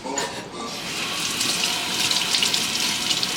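Steady rush of tap water running into a sink as something is rinsed beneath it, a close, continuous hiss that holds at an even level throughout.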